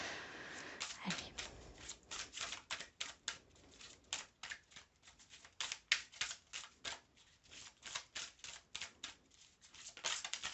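A deck of oracle cards is shuffled by hand in rapid, rhythmic riffles and soft slaps, a continuous crisp papery clatter close by with no talking.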